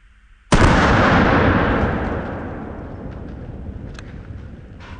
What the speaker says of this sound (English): let's go ahead and try the pistol, and once again, using the exact same bullet